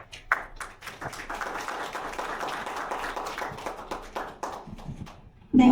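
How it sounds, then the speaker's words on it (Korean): Sustained applause from a seated audience at a Korean community advisory council meeting in Seattle, a steady wash of many hands clapping for several seconds that thins out near the end before a voice cuts in. "좋은 말씀 해주신 회장님께 다시 한번 큰 박수 부탁드리겠습니다"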